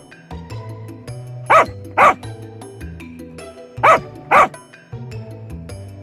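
Several dogs bark near a tree cave, two quick pairs of loud barks ringing out over a steady low background of music-like tones.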